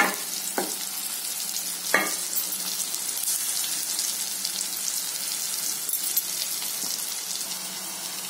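Bitter gourd stuffing mixture fries in plenty of oil, a soft steady sizzle with a couple of sharp scraping clinks early on and faint stirring, no one talking.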